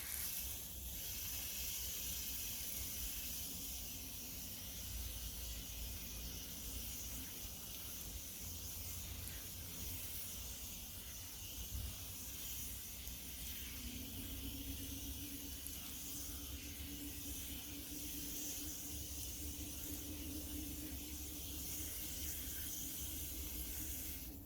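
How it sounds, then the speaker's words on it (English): Water runs steadily over a washed cooling mat, a continuous broad hiss of rinsing that stays even and close throughout with no pauses. "So I'm just going to rinse it off over here."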